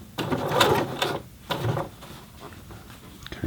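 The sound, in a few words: Singer Heavy Duty 6800C sewing machine stitching a longer stitch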